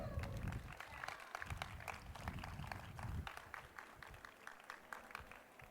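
A small outdoor crowd applauds a memorial mosaic dedication with scattered, uneven clapping that thins out toward the end, faint and somewhat distant, with wind in the background.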